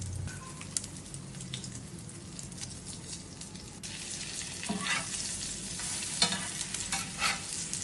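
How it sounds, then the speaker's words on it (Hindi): Egg-dipped chicken shami kababs fry in oil, giving a steady crackling sizzle like light rain, with soft stirring and occasional louder pops toward the end. "शामी कबाब को अंडे में डिप कर कर इसको फ्राई कर लेंगे।"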